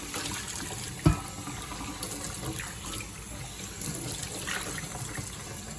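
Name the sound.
hot tap water rinsing a cast iron pan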